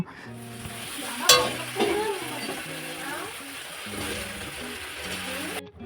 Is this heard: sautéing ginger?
yes